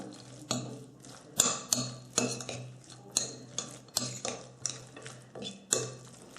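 Chopped walnuts and cinnamon are stirred in a bowl with a spoon, giving rhythmic scraping clinks and rustles about twice a second. The sound is close and moderately loud, with no talking.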